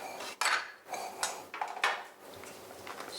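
Flax cracker mixture is scraped and tipped into a medium-size mixing bowl, giving quiet scattered clinks, knocks and scraping clatters of utensil against bowl with brief pauses between them.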